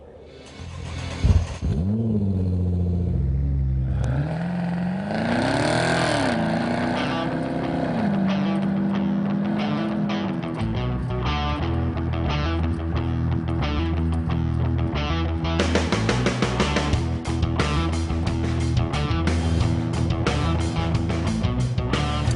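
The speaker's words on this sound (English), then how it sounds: "Let's drive the 2012 Camaro ZL1 and check the tech." A 2012 Chevrolet Camaro ZL1 engine roars loud and close as the car drives, a deep steady rumble that swells through revs and stays strong throughout with no talk over it.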